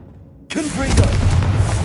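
Confringo spell cast in Hogwarts Legacy, a sudden loud explosive boom bursting out after a half-second of quiet and then rumbling on as a dense, rolling blast to the end.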